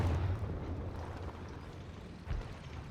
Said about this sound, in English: Oh man, we had an incendiary barrage being dropped as well